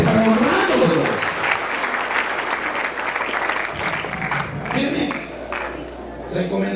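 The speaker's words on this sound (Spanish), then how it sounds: "Denme un aplauso a Cristo." Applause at a wedding ceremony in a church, a congregation clapping steadily with some cheering and voices mixed in, fairly loud and sustained, fading slightly toward the end.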